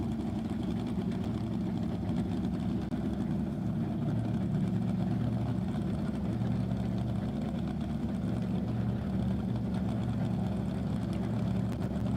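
Land speed race car idling at El Mirage dry lake during an SCTA event, fuel being fed in: a steady, low, rumbling engine drone, moderately loud and unchanging for the whole stretch, with no voices.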